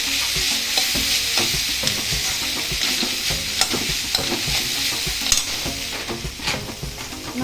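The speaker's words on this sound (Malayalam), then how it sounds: "ഇനി നമുക്കിതിലേക്ക് കറിവേപ്പില ചേർക്കാം." Curry leaves tossed into vegetables sizzling in a pan for a poha breakfast: steady, close frying hiss with frequent sharp pops and spoon-stirring scrapes, no talking.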